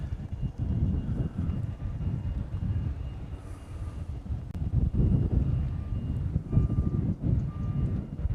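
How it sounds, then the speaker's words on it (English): A C-17 military transport plane approaches Honolulu airport to land on parallel runway 8 Left, giving a steady, loud, broad jet roar that holds throughout with slight swells and wind buffeting on the microphone. "There's that C-17."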